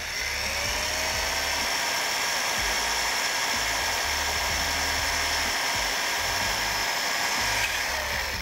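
Electric drill bores steadily into a Mazzer Mini espresso coffee grinder's doser during a conversion to doserless, a continuous close whine with slight pitch dips as pressure changes, no talk.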